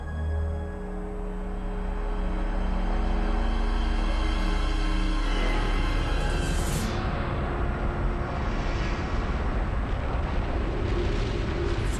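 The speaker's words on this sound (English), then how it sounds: "the greatest volcanic eruption to have ever occurred in the long history of the" A massive volcanic eruption hurling lava high into the air sounds like a deep, continuous roaring rumble that swells and stays loud and dense, with a low musical drone underneath at first.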